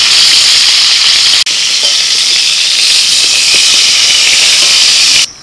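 Pointed gourd (potol) pieces frying in hot oil give a loud, steady sizzling hiss that runs nearly unbroken, with one brief dip and a soft clatter near the end.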